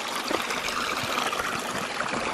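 A small creek section fed by a micro hydro setup flows steadily, a close, continuous trickling and burbling of water with no voices.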